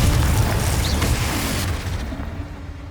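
A Confringo fire spell blast in the Hogwarts Legacy video game, a loud booming explosion right at the start that rumbles and fades away over a few seconds.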